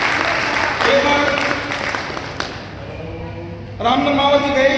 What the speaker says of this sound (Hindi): एक बार मैं उनकी जोरदार तालियों से सम्मान करना चाहूंगा